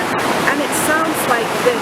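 The waterfall at Tel Dan roars as a steady, dense hiss of rushing water, constant and full, while a voice speaks briefly over it.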